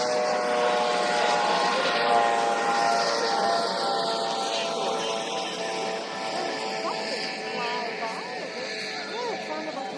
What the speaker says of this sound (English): maybe a plane was getting ready to land